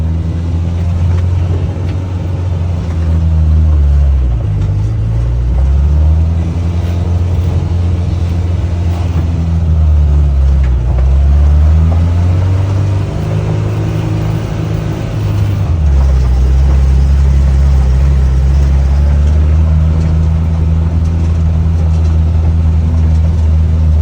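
An old rusty junk car's engine runs loud and close as the vehicle moves off, a steady low rumble that rises and dips in pitch through several revs and gear changes, with no one talking.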